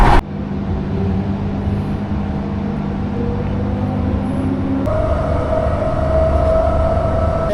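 Steady rumbling hum inside a moving train carriage, with constant low drone and rattle that shifts slightly in pitch partway through; no talking.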